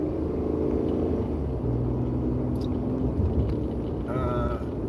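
A two-tone black and white 1957 Chevy passes at a distance, its engine a low, faint rumble with some ambient noise around it.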